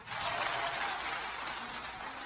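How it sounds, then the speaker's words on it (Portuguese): Applause at a church worship service, a steady, soft wash of many hands clapping at a distance, with no voices over it. "Dê esse aplauso de glória a Deus"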